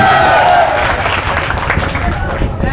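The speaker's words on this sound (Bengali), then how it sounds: "জোরে একটা তালি মারেন" An audience at a live village stage performance clapping loudly: a dense, continuous wall of applause and crowd noise that holds steady throughout, with a voice briefly audible at the start.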